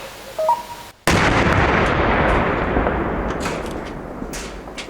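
Deminers near Lyman in Donetsk region detonate a found explosive in place: a quiet pause, then one sudden, powerful blast whose heavy roar rolls on and slowly fades with scattered crackles.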